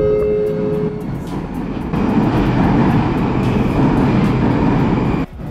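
A modern Moskva-2020 Moscow metro train runs past with a loud, steady rumbling roar. A thin tonal whine rises briefly at the start, and the noise drops off abruptly just before the end.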